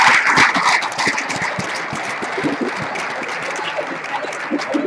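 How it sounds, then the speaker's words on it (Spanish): A lively audience at OSHWDem 2016, a maker fair, claps loudly and continuously, a dense patter of hands close by, with faint voices mixed underneath. "un fuerte aplauso a los dos"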